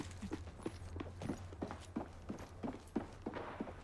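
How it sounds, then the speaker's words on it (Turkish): Steady, evenly spaced footsteps thud along in the shooter game Apex Legends, about eight soft impacts over a constant low background hum, with no talk. "bak ayak sesleri geliyor"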